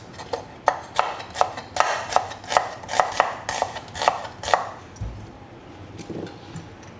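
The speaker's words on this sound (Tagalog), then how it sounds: "So ngayon guys, gayatin natin yung ating sibuyas." Knife chopping onion on a cutting board for a Filipino pinakbet vegetable dish, about a dozen steady crisp thuds in a regular rhythm that stop near the end, close and clear with no talking.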